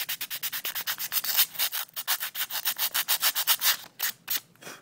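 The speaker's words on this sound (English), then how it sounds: "I'm going to sand it down a little bit more." Hand sanding of a tabletop terrain piece with sandpaper: a rapid run of about thirty rhythmic back-and-forth rasping strokes, close and fairly loud, with brief pauses, no talking.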